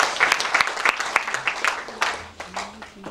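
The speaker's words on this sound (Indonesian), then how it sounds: "Berikan tepuk tangan untuk Tuhan Yesus Kristus." Church congregation applauding during a worship service, a dense rolling wash of clapping at close range that thins toward the end, with faint voices mixed beneath it.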